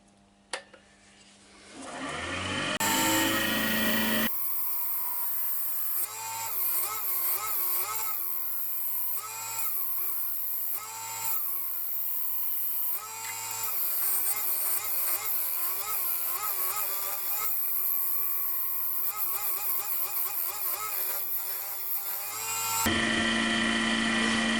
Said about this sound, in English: And now I'm going to put a mark or a groove where I'm going to put the actual lip. And I'll do that with the parting tool.